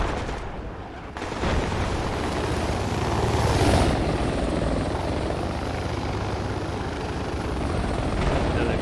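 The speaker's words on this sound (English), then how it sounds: "And they flew the chopper into the cache." A military helicopter in Project Reality roars steadily overhead at a cache defense, its dense rotor and engine noise loud and continuous for several seconds after a brief quieter start, with no talking.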